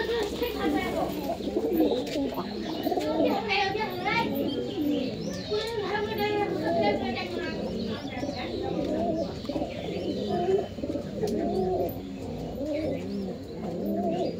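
Pet pigeons coo steadily, close up, in a rising and falling murmur that fills the whole clip. Children's voices and other chatter run underneath.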